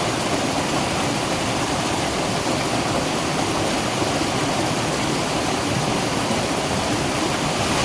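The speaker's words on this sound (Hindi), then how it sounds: "इस रास्ते में ये देखिए कितना पानी बह के आ रहा है" Heavy rain runoff rushing down a hill path in Uttarakhand, a loud, steady roar of flowing water with no break, heard alone without talk.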